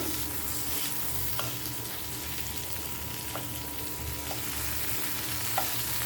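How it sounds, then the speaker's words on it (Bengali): Fried green tomatoes being pressed and mashed with a spatula in a hot pan for a burnt tomato bharta, steady close sizzling with occasional soft scraping taps. "টমেটোগুলোকে ভালো করে এভাবে একটা খুন্তির সাহায্যে চেপে চেপে ভালো করে ম্যাশ করে নেব"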